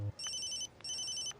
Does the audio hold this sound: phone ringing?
yes